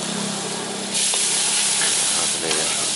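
Eggs frying in hot oil in a wok over a strong flame while cooking Thai seafood stir-fried basil; a steady, loud sizzle and spatter holds throughout, with brief stirring clatters and no speech.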